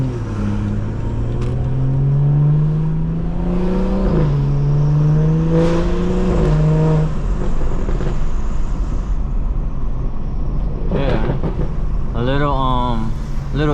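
A BMW 440i engine revs hard on an evening drive, its rising harmonic tone climbing steadily for several seconds before easing off, loud and close, with talk over parts of it and a brief rise again near the end.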